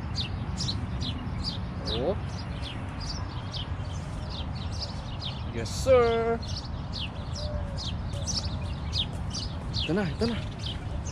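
Outdoor birdsong with repeated chirps and tweets scattered throughout, one louder call around the middle, heard over steady background noise while people talk nearby.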